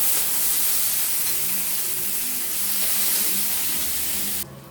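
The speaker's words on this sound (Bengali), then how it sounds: "দিয়ে পেঁয়াজটাকে লাল লাল করে ভেজে নেব" Sliced onions fry in hot oil for an egg curry, making a steady, close, broadband sizzle with no speech. The hiss holds at an even level and drops suddenly at the very end.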